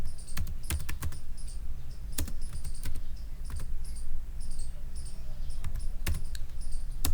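Rapid bursts of computer keyboard typing, with sharp clustered keystrokes and pauses between them, close and fairly loud over a low steady room hum.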